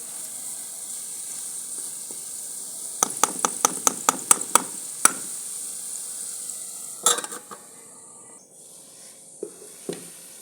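Soya chaap sabzi sizzling steadily in a pan as a spoon scrapes and knocks against the metal in quick bursts of rhythmic stirring, with a few more scattered clinks toward the end.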